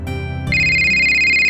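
A phone ringtone starts up loud and close, a bright electronic tone held for about a second before cutting off.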